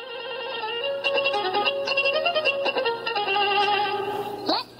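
Ocean buoy data rendered as sound, a steady electronic tonal texture of layered pitched notes shifting in a melodic pattern, continuous and fairly loud, ending with a brief rising sweep.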